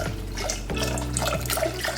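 Vegetable stock glugs from a carton into a pot, a short, close liquid pour with gurgling pulses lasting about two seconds.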